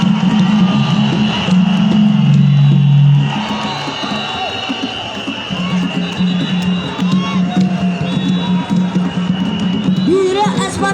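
A large crowd at a political rally in a stadium in Chad roars and cheers, with whoops and shouts forming a dense, loud, continuous din, steady sustained tones running underneath.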